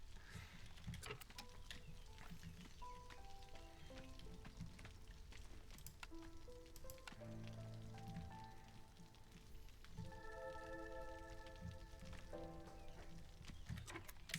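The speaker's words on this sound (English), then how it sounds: "So it looks like it's raining just as hard." Soft, steady rain patters in the Against the Storm video game, faint and continuous beneath scattered game tones and a short melodic chime, with no speech.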